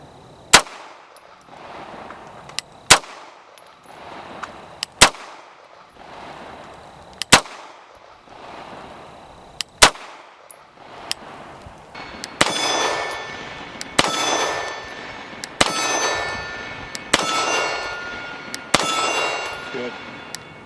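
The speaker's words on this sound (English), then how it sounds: "That's a nice gun to shoot, isn't it?" A Beretta M9A4 9mm pistol fires at steel targets, roughly a dozen sharp shots spaced a couple of seconds apart, each followed by a ringing metallic clang, with a voice murmuring faintly between them.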